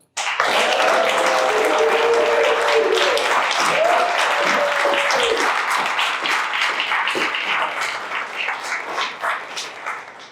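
Audience applause welcoming guest Doug Duncan at a live News You Can Use event in Alpharetta, Georgia: dense, steady clapping from a crowd that stays loud for several seconds, then gradually thins and fades toward the end.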